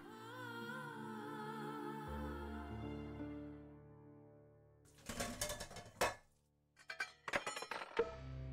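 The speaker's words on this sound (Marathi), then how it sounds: "भांड्यांचा आवाज येतोय का?" After a stretch of sustained tones, two short bursts of clattering dishes and pots, metallic clanks and clinks separated by a brief pause.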